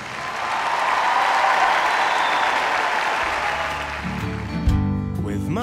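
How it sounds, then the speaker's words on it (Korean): Spectators cheer and applaud warmly for a figure skating gala show performance, a loud sustained roar of clapping that builds and then thins as music and other tones come in near the end. "피겨 여왕 김연아의 갈라쇼 연기에도 관중들은 가장 뜨거운 박수를 보내주었습니다."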